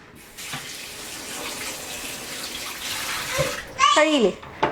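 Tap water runs steadily as a cleaned crab is washed under the stream, a constant close splashing wash, with a voice speaking briefly near the end.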